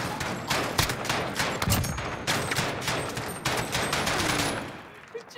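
Gunfire in a first-person shooter video game, sharp shots in dense rapid bursts close up, continuous across the moment with a voice speaking faintly beneath.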